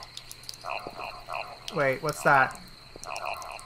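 Frogs croak in a spooky horror video game, a rhythmic run of short repeated croaks followed by two louder, longer rasping calls, with a brief spoken remark partway through.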